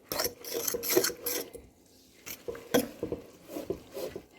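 Corn fritter batter of milk and flour is stirred in a bowl, giving intermittent scraping and soft clinking strokes, close and fairly quiet, with brief pauses between bursts.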